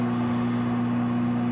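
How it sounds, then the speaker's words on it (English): A power converter runs by itself, giving a steady, close electrical hum with a strong tonal drone and faint broadband hiss, unchanging throughout. "That's the sound of only the converter running."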